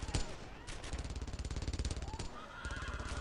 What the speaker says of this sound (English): Especially when the Thompsons fire.